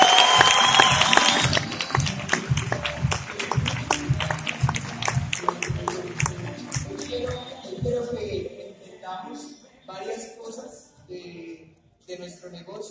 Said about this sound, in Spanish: quiero que se den un buen aplauso, pero con toda fuerza